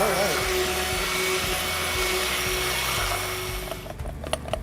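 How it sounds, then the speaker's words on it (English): Mixer buzzing as lye is blended into cold process soap batter, a loud, steady motor drone with a pulsing low hum. It cuts out near the end, leaving brief clatters and faint talk. "when we're mixing our lye in, that is, when you're coming in store and you hear the buzzing sound in the background"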